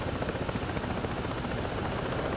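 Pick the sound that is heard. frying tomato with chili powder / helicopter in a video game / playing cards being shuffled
helicopter in a video game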